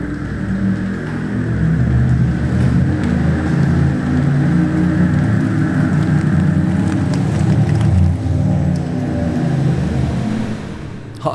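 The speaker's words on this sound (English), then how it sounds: "you have to hear the noise of these cars" A 2020 Porsche Taycan Turbo S electric car drives past on a track, giving a loud, sustained whirring rumble that holds steady throughout, with no talking.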